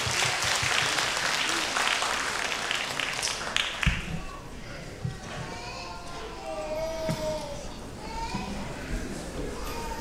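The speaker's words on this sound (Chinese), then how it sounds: "掌声有请。" An audience at a 2019 Spring Festival gala in Montreal claps loudly to welcome a kuaiban clapper-talk performer onstage. The dense applause lasts about four seconds, then thins into scattered claps as faint voices and tones come through.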